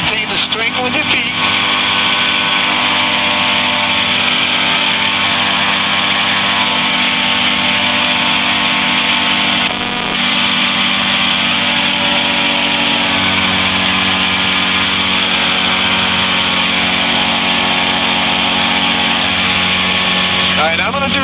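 A light training aircraft's engine drones loudly and steadily in flight during pattern and landing practice, with a brief dip midway, while people talk over the constant noise.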